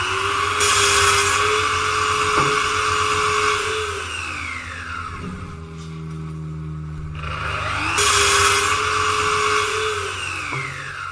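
A circular saw with its blade running cuts through a wood panel in two loud passes, each marked by a rising whine and then a falling tone, with a quieter idle between the cuts.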